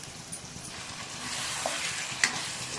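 Chicken biryani masala mixed with thick homemade curd is stirred in a kadai, soft scraping and wet mixing with a light sizzle and a few sharp spoon clinks, close and quiet without talk.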